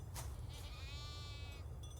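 Farm animals bleating in the farming video game Farm Together 2, a single drawn-out goat bleat standing out clearly against a steady low background hum, with a brief sharper call just before it.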